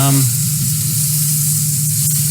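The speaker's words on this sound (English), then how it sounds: "I'm going to add a little bit more oil because it's pretty well soaked into the potatoes. Ooh, hey, it's bubbling." Potatoes fry in hot oil in a pan, giving a steady, close sizzling hiss after a brief tone at the start.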